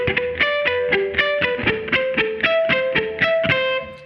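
Palm-muted triad chords ring out on a distorted electric guitar, struck in a steady, even rhythm of short chugging strums, loud and close with no voice.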